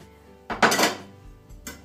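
A spoon clinks and scrapes against a bowl while salt and sugar are stirred together for curing salmon, a short burst of close clattering with a quieter clink after a pause.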